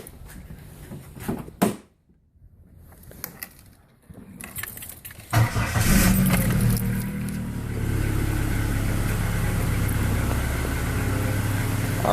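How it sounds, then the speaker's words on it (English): A car engine cranks over, catches and settles into a steady idle after a few seconds of small clicks and key jangling, heard close and continuous to the end. "And let's fire the car up, and I'll show you a couple other things it does."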